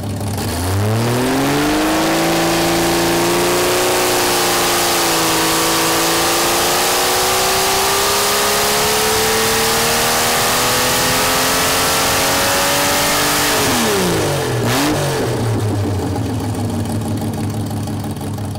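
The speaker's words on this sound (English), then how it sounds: "here's the Dyno pull with the Harlan Sharp roller rockers and the stock exhaust headers bolted up." A Jeep stroker engine fitted with Harlan Sharp roller rockers and stock exhaust headers roars through a full dyno pull from 3,500 rpm. The loud, sustained pitch climbs steadily, then drops sharply as the throttle closes and it winds down.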